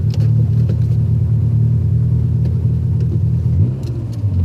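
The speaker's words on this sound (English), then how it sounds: "I don't know if you guys can hear this, but like my idle is just, it's no good" A Honda Prelude engine idles roughly with a steady low rumble and slight wavering pulses, recorded close to the car, with the idle dipping briefly near the end and no talking.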